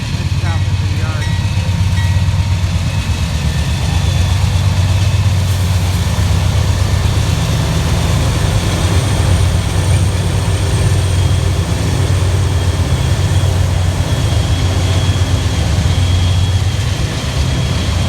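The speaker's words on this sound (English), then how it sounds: "Here comes the CSX train around him. Another loaded coal train." A loaded CSX coal train rolls past near Howell Yard in southwest Indiana, a loud continuous low rumble and rattle of heavy cars that holds steady throughout.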